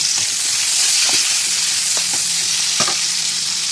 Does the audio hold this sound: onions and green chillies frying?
yes